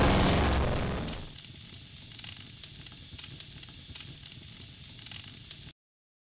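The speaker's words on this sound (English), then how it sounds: "It's all exploding!" A loud explosion bursts at the start in the I Have No Mouth and I Must Scream video game, then fades into a steady crackling, rumbling aftermath before cutting off abruptly.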